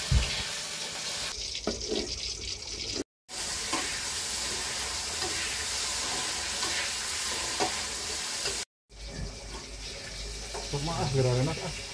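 Food fries and is stirred in a pan during a shared Sundanese fast-breaking meal, a steady loud sizzle with scraping and clattering throughout, two brief dropouts, and faint voices in the background.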